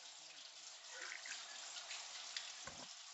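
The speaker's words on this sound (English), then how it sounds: "It sounds like a waterfall in the background." Steady running water like a waterfall, with a constant broadband hiss throughout, heard while shrimp are being peeled. A brief low thump comes near the end.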